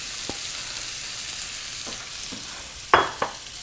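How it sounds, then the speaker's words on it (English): Grated cauliflower with scallions sizzles softly in butter in a pan, a steady frying hiss broken by a few brief scrapes and one louder clink near the end. "What I'm gonna do next is add in my cauliflower"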